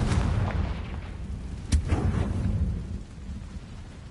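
Confringo blasting spell in Hogwarts Legacy, a sharp booming explosion that leads into a rumbling tail, followed by a second crack and boom at mid-clip that fades into a low echoing roar.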